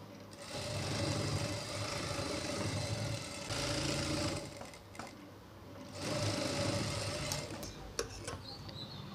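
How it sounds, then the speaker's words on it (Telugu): A sewing machine stitches lining onto a blouse back, running in steady bursts with short pauses between them. It whirs at close range with no voices. "ఆ తర్వాత లైనింగ్ అటాచ్ చేసేయండి దీనికి"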